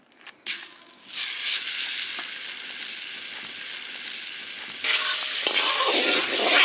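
Butter goes into a hot pan, bursting into a loud sizzle after a clunk that holds steady, then surges louder again with fresh crackling near the end, no talking.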